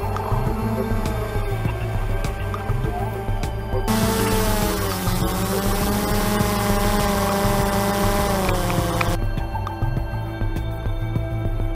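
A Kongcopter Y600 multirotor drone climbs at high throttle, its motors giving a steady buzzing whine that rises in pitch and intensity midway before settling back, heard from nearby over a constant low hum.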